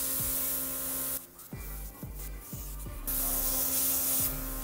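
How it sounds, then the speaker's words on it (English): Airbrush spraying make-up onto a face for a blue Na'vi Avatar look, a steady airy hiss that cuts out briefly and resumes in bursts, close up under background music. "At this point, I'm just drawing on my face with the airbrush,"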